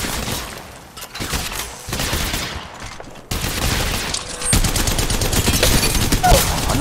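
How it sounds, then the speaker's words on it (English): Enemy gunfire in Apex Legends Mobile: dense overlapping volleys of rapid shots, loud and close, with short gaps between bursts and a sharp surge in the last few seconds. "Shots fired, and they're hitting me. They're shooting at me."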